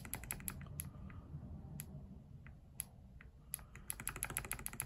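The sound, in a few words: clicky mechanical keyboard switches (NK Cream Clickies) being typed on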